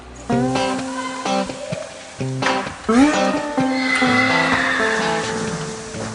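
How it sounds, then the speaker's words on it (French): Horses neigh in the stables of a French army cavalry school at Chantilly, with several loud, close whinnies rising and falling one after another, with short gaps between calls. "il faut déjà s'occuper des box et des chevaux"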